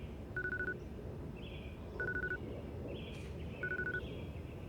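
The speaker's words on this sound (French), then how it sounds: "Votre téléphone sonne encore." A telephone rings in three short repeated bursts about every 1.6 seconds, steady electronic tones over a low background hum.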